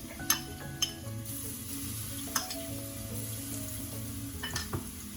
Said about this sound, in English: Just throwing in the 8 to 10 flakes of grated garlic.